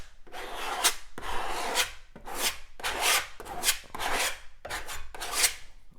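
Knife rasps and scrapes as a thin, hard skim coat of compound is spread, about seven rhythmic strokes across a second or so each, close and moderately loud with no talking.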